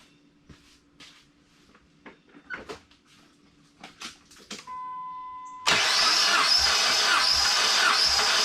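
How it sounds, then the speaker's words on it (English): A Dodge SRT-4 engine cranks over for a cold compression test with the gauge fitted to a cylinder. A few close handling clicks and knocks come first, then a loud, steady whirring crank runs without a break through to the end. "I'm going to crank the engine over. Typically it's 3 full rotations."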